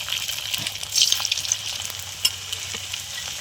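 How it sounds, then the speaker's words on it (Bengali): Flattened-rice (chira) puli fry in hot oil in a wok, giving a close, steady bubbling sizzle with a few light stirring clicks and no voices. "তা আমি এই পুলিগুলো, চিড়ের পুলিগুলো ভেজে নেব।"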